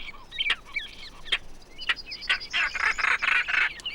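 A courting European bird, presented in a children's jungle safari cartoon, gives a series of sharp chirps and warbling calls, then a longer bright trill, fairly close and alone.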